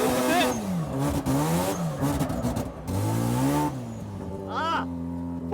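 A drift car revs hard on the throttle with loud, rising and falling engine howls and brief tire squeal, then a faint voice and a final sharp rev near the end.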